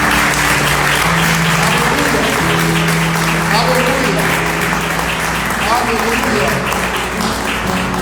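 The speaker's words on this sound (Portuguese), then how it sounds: "Aplauda o Senhor." A church congregation at a Sunday service celebrating Women's Day fills the room with loud, continuous applause, while a voice calls out over the clapping.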